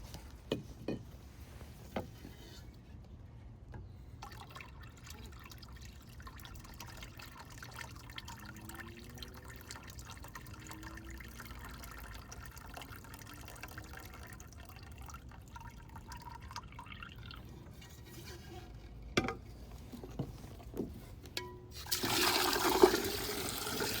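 Water running and dripping into a bucket while rinsing silver chloride toward neutral pH, a soft steady trickle with occasional drips, ending in a louder rush of water near the end, heard alone without talk.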